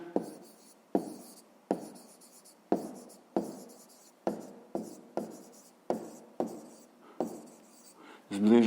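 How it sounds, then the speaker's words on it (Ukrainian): Pen strokes on paper while writing out a school math answer, a dozen short scratchy bursts in an uneven rhythm, close and fairly quiet, with a brief louder rustle at the end. "Пишемо відповідь."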